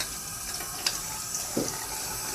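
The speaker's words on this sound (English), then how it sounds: "And then our strainer here, most of the stuff will rinse out." A Kuvings Silent Juicer strainer rinsed under a running tap at a sink, a continuous close stream of water with a couple of brief splashes and clunks as the strainer is handled.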